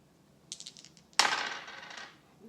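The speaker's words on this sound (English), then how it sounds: "we'll roll the dice." Dice clatter lightly: a few quick taps, then a louder rattle as they tumble and settle on a hard surface, close and brief in a quiet room.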